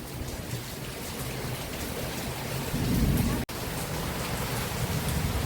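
Heavy, steady rain from a summer thunderstorm in Bangalore roars with broadband wind noise, swelling briefly louder midway before settling back to a constant wash.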